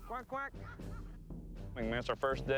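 Children's voices imitate duck quacks while walking like ducks during a first ski lesson on a slope, honking and nasal, in a quick burst of several calls close by.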